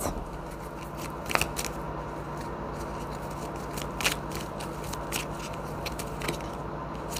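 Tarot cards being drawn and shuffled close by, soft papery rustles with a few sharper flicks and snaps spaced irregularly over a quiet background.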